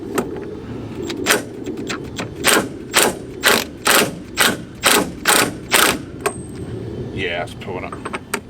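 A ratchet tightens a nut while car brakes are being worked on. A run of about a dozen rhythmic clicking bursts sounds close by, then tails off into quieter handling noise.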